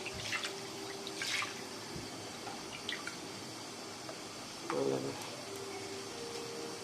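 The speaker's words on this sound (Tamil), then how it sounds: "நம்ம அப்படியே கொஞ்சம் அழுத்தி கொடுத்து வாஷ் பண்ணிக்கலாம்." Jackfruit seeds being pressed and washed by hand in water, giving soft, intermittent splashes and drips with a couple of brief sloshing bursts over a quiet background.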